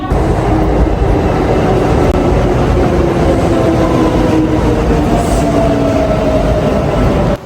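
A train ride in Japan: a steady, loud rumble of wheels and carriage runs throughout, with faint tonal whines rising and fading beneath, and no talking.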